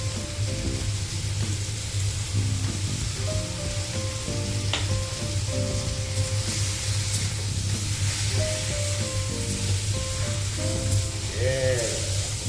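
Dried shrimp and cabbage frying in a hot pan with fish sauce just added, giving a loud, steady sizzle and hiss throughout, with occasional stirring scrapes and clinks.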